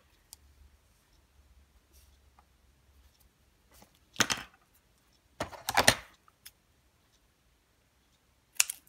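Cardstock trimmed down for a packing box card: a few short, crisp cutting bursts, close and fairly loud, separated by stretches of near silence.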